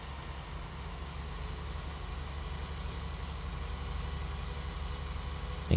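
A tractor engine drives in a farming video game, giving a steady, low, even engine hum with no talking.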